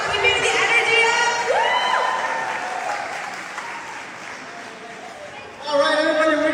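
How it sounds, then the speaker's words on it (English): A crowd applauds and cheers for Hanya, broad steady clapping with whoops that dips midway, then swells loudly again near the end, with a voice heard over it. "Can we also give a round of applause for Hanya, who's been doing an amazing job keeping the energy up?"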